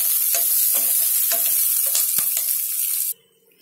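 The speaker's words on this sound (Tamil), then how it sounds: "இப்போ இந்த வெங்காயத்தையும் குடமிளகாயும் வதக்கி எடுத்து வச்சாச்சு." Onion and capsicum sauté in a pan for kadai paneer gravy, a close, bright sizzle punctuated by rhythmic spatula scrapes before it cuts off abruptly into quiet.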